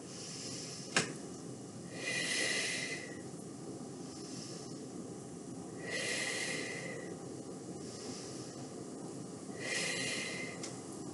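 A person breathing during a seated chest fly with hand weights in a gentle fitness routine: three slow, loud breathy exhalations spaced about four seconds apart, close to the mic, with a brief click near the start and no talk.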